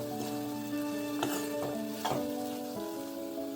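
Andhra-style flat bean (chikkudukaya) vegetable curry sizzles steadily in a pan, with a few soft scrapes of stirring over the continuous frying hiss. No one speaks.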